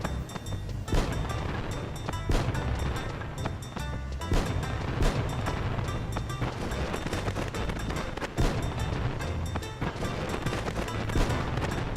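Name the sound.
fireworks explosions in the video game Final Fantasy XI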